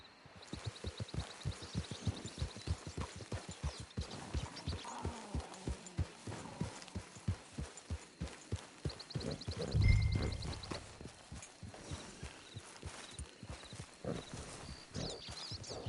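Horse hooves clip-clop at a steady walking rhythm in Red Dead Redemption 2 Online, with no voices heard, while one heavier low thump lands near the middle.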